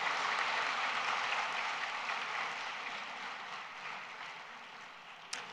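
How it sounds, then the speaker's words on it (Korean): A church congregation claps together after a children's worship performance, a steady wash of applause that slowly tapers in loudness over several seconds. "하나님께 큰 영광의 박수 올려드립니다."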